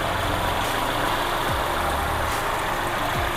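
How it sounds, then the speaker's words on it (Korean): An Infiniti Q30 2.0 AWD engine idles at an even, constant pitch, close by, with a low rumble and no talking. "엔진 소리도 일정합니다"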